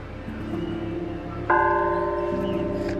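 An old bell on the roof of an abandoned Spanish hacienda built in 1600 in Mexico is struck once loudly, and its bright metallic tone rings on with a long, slowly fading hum over a quieter low drone.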